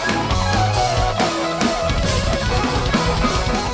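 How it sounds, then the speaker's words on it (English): A full band with guitar, bass and drums plays one shared rhythm in unison, producing a dense, loud, cluttered wall of sound that continues without pause. "like we're all playing essentially a similar rhythm all at the same time, and it just sounds like this cacophony"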